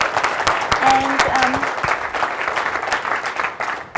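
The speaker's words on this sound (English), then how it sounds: "Big round of applause, please." An audience applauds panelists at the close of a panel discussion on Debian contributors, a lively burst of clapping from a crowd with a voice briefly audible over it.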